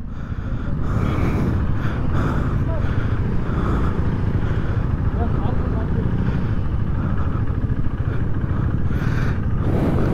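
A KTM Duke 390 motorcycle rides along with a steady engine drone and road rumble throughout, while a voice talks over it.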